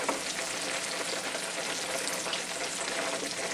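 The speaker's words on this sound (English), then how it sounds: "lower it back slowly into the oil and continue to cook at 5-minute intervals" A turkey deep-frying in hot oil gives a steady, dense sizzle and bubbling hiss, loud and close, with no voices.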